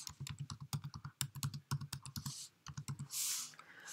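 Rapid keystrokes on a computer keyboard while a Windows command is typed, a quick uneven run of crisp close clicks followed by a short pause and a heavier final press.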